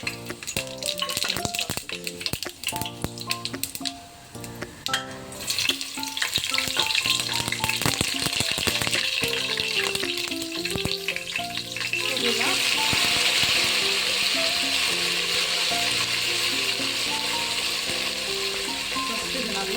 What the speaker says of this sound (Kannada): ಎಣ್ಣೆಲಿ ಹುರ್ಕೋಬೇಕು. ಸ್ವಲ್ಪ ಚಟಪಟ ಅನ್ಸುತ್ತೆ.